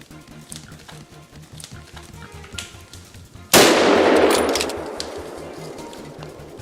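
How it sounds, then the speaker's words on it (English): A sudden loud gunshot rings out on a mountainside after a stretch of quiet rhythmic rustling and low thumping from wild boars, its noisy roar decaying slowly over several seconds. "The gunshots caused chaos."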